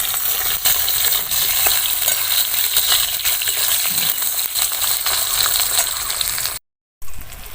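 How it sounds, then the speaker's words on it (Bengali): Eggplant fries lightly in oil for a village-style fish curry, with a bright, close, continuous sizzle and occasional stirring clatter, no voices, and a short silent gap just before the end. "বেগুনটা আমি হালকা একটু ভেজে নেব।"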